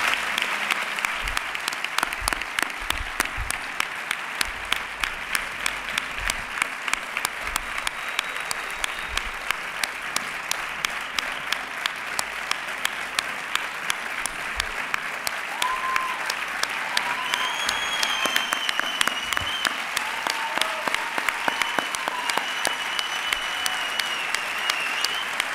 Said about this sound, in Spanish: vamos a recibir con un fuerte aplauso y todo el cariño del mundo a Ricardo Lara